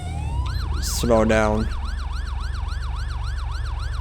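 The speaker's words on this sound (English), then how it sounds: "So this is a Code 3 Vcon siren I'm using." A Code 3 Vcon police siren in the video game GTA V wails in a fast, regular up-and-down yelp over road and engine rumble, loud and close. Someone speaks briefly near the start.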